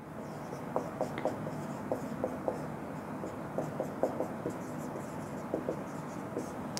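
Chalk or marker scratching out a question on a classroom board in a short series of light taps and strokes, with faint room noise behind and no talking.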